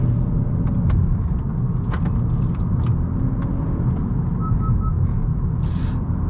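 A car drives along the winding Tail of the Dragon mountain road, its engine and tire rumble heavy and constant from inside the cabin, with faint clicks and brief higher sounds over the steady drone.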